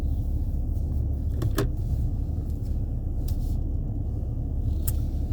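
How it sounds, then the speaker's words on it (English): A car is driven and steered into a straight line, a steady low road and engine rumble filling the cabin with a few brief clicks and knocks from inside, no voices. "I'm gonna get this car into this straight line."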